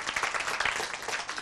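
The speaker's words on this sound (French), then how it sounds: "on applaudit très très fort pour tonton Sila" A group of children applauds at a school event, a dense, even patter of many hands clapping together for a short stretch.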